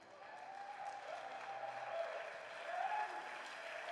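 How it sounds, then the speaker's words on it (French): A church congregation applauds during a worship service, a steady wash of clapping hands from a crowd that swells slightly and holds throughout, heard from a little distance. "Acclamez cette parole"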